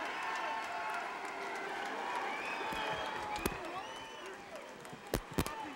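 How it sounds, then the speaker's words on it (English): A packed Madison Square Garden crowd applauding and cheering as a boxing fight ends, a steady broad roar of clapping and voices with a few sharper thumps near the end. "This packed house at Madison Square Garden standing, applauding."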